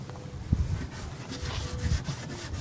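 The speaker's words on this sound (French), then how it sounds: "je frotte pour bien nettoyer, pour enlever toutes les traces calcaires et la saleté due" Nano aquarium glass is scrubbed to remove limescale and dirt from the animals, giving a close, steady rubbing and scraping sound with a few firmer strokes and no talking.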